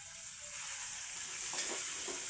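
Green peas and onions with a little turmeric fry in hot oil, giving a steady close sizzle that grows slightly denser toward the end, with no voices.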